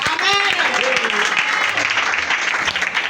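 A church congregation claps and cheers together in a sustained burst, dense and continuous, while a voice rises briefly above the crowd near the start.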